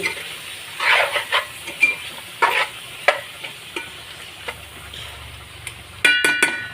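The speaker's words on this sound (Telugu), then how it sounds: "గరిటతో కలిపినా ఏం కాదు. బాగా కలుపుకొని" A ladle stirs fish curry made with raw mango, with soft scraping and sloshing strokes against the pot over a low sizzle, ending in a few sharper clinks.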